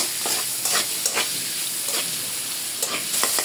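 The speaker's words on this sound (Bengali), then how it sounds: "এই তেলের ভিতরে সামান্য আরেকটু তেল দিয়ে দেব। তেজপাতা, কাঁচামরিচ হালকা একটু নরম করে নেব।" Bay leaves and green chilies fry in oil, giving a steady close sizzle broken by a few sharper crackles and stirring scrapes, with no talking.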